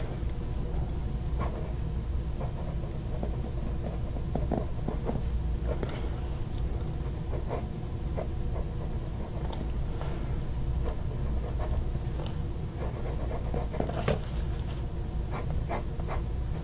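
A Wing Sung 601/618 fountain pen with a bent nib scratches across paper in quick, continuous strokes, with faint ticks where the strokes start and lift. It sounds close and dry, with no talking.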